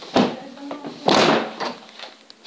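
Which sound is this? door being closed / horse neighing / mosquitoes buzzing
door being closed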